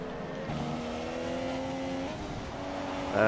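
Racing car engines from a racing game, a Mercedes-powered Williams among them, drone steadily with sustained harmonic whine and shifting pitch, a louder rise at the very end.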